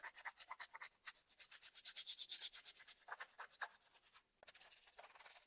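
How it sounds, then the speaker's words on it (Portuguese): A nail file sands cured epoxy resin in quick, rhythmic scratchy strokes, close and fairly quiet, pausing briefly before a final faster burst. "É só você vir aqui com a lixa de unha"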